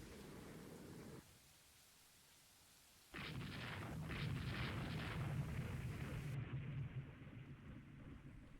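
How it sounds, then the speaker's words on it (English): A battleship explodes in the naval strategy game Rule the Waves 3, a sudden deep rumbling blast that swells into sustained roaring booms and crackle, loud and alone after a quieter lull. "That really was a battleship that blew up."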